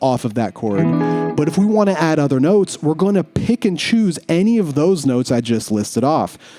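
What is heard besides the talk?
No everyday noises stand out.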